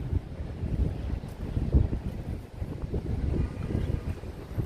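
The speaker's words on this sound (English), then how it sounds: "It's a little windy, it helps," Steady wind at Sheepshead Bay, Brooklyn, rumbles and buffets against the microphone, a continuous low roar with gusty swells and no voices.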